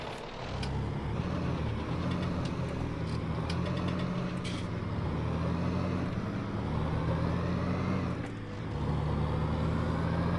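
A farm vehicle in Farming Simulator 19 drives back to the farmyard, its diesel engine droning steadily at a low, even pitch throughout with slight rises and dips in revs, alone and fairly quiet.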